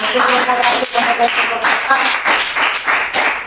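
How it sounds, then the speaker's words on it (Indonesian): A classroom of students in an Islamic religious education lesson applauds together, a steady, dense patter of many hands clapping close by for several seconds, with voices murmuring faintly underneath. "Oke, terima kasih, tepuk tangan"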